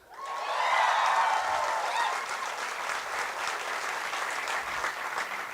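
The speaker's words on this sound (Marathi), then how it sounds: "ओके, आता त्यानं दंगा केला की टाळ्या वाजवायच्या" A comedy show audience bursts into applause with some cheering at the start, then settles into sustained, even clapping at moderate volume.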